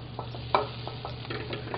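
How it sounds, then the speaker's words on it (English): Apples sautéing in melted butter in a pan, with a soft continuous sizzle and a few light stirring scrapes and taps, close and quiet with no talk. "In the meanwhile, we're going to saute up cooking the apples."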